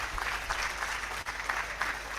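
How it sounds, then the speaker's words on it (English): Audience applause for the Honourable Minister at a ministerial press briefing, a steady wash of clapping from a crowd with a brief dip midway, loud and continuous throughout. "a big round of applause for the Honourable Minister"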